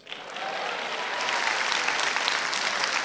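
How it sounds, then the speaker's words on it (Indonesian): Studio audience applause at a stand-up comedy show, a steady full clapping that swells quickly and holds loud and even throughout. "ayo beri aplaus."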